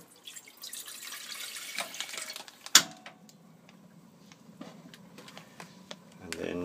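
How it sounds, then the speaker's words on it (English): About 300 ml of water is poured into a pot for chestnut jam, a close rushing splash that lasts a few seconds, followed by softer kitchen clatter while someone speaks. "300 mils of water."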